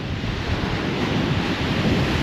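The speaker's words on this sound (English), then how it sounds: "I've currently got sustained winds of about 40 mile an hour," Strong coastal wind at Folkestone, sustained near 40 mph with gusts toward 60, roars as a continuous broadband rush buffeting the microphone, steady and loud with surf-like churning and no voices.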